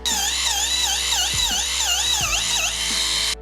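A pedicure machine's rotary head grinding callus off a toe, a loud, continuous high electric whine that wavers rhythmically in pitch as pressure changes, close up with no talk.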